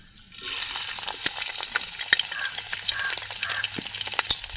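Chopped garlic and ginger frying in hot oil in a pan for Kerala-style fish head curry, a steady crackling sizzle that starts abruptly and carries on with scattered sharper pops and stirring.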